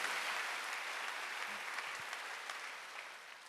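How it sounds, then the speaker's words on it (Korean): Church congregation at a Wednesday worship service breaks into continuous applause, soft and somewhat distant, holding steady and slowly fading toward the end. "박수."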